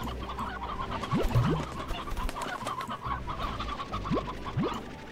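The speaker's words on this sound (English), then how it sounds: "Come here, chickens." Chickens clucking in the ranching video game Slime Rancher, a steady busy flock with repeated short clucks and a few rising calls over a constant ambient game background.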